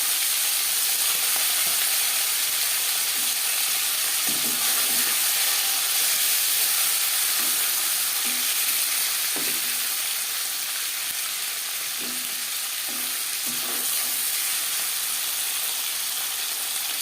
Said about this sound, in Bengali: মাছ ভেজে নেওয়া তেলে ফোড়নে দিয়ে দিলাম গোটা জিরে